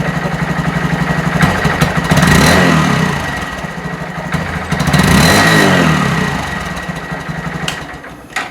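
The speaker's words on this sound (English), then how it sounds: "let's go ahead and fire this thing up so you can hear what it sounds like stock" 2019 Honda Monkey 125 with stock exhaust, started and idling close by, a steady loud single-cylinder putter with two gentle rev swells in the middle before settling back.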